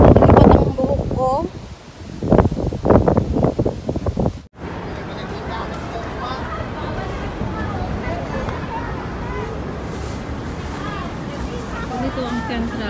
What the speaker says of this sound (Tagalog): Grabe ang hangin guys.